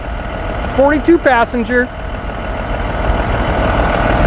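A front-mounted 6.7 Cummins diesel, rated 240 horsepower, idles in a 2009 Blue Bird All American 42-passenger bus, a steady close rumble that runs throughout while someone speaks briefly over it.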